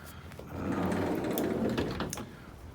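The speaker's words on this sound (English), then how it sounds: "Doors slide all the way open." A 1992 Subaru Sambar Super Deluxe van's sliding door rolls open with a rumbling slide and a few clunks over about two seconds, close by and with no talking.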